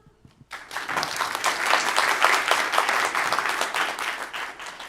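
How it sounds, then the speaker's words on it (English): Enthusiastic audience applause at the Google Geo for Good Summit 2022 after a set of lightning talks. It starts abruptly after a short quiet moment and becomes a dense, even wash of clapping that lasts to the end. "Let's give them another round of applause"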